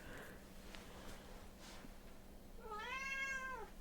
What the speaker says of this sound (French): Le chat passe derrière.